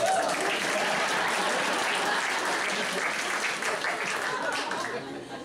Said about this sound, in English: another round of applause for me.